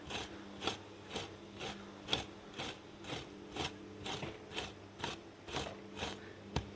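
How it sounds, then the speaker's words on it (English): A dethatching rake scarifies a Kentucky bluegrass lawn, giving a rhythmic series of about a dozen scratchy, raspy pulls spaced roughly half a second apart, close and fairly quiet. "So basically you pull it like this, and then your thatch slides onto the rake like that."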